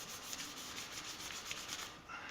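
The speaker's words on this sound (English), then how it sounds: "just going to give it a bit more of a sanding" Sandpaper rubs on the bridge of an acoustic guitar in short, quiet back-and-forth strokes, a soft rhythmic scratch close by with no voices.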